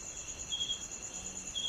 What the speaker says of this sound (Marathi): आवाज बघा कसा येतो रातकिड्यांचा.